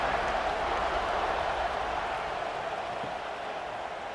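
Steady roar of a stadium crowd at a night college football game, Arkansas against Georgia, a dense, continuous wash of cheering with no clear peaks and no voices standing out.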